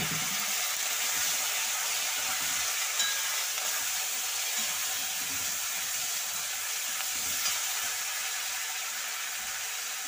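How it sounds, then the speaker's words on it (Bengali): Eggplant pieces frying in oil in a pan, a steady even sizzle with a soft crackle that runs unbroken from start to finish at close range, with no voices over it. "বেগুনটা ভেজে নেব।"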